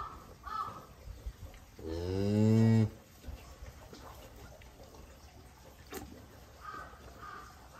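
A Japanese Black Wagyu cow that has just given birth to a calf gives a single loud, drawn-out moo in a quiet barn, followed by faint shuffling and a few soft crow-like caws in the background.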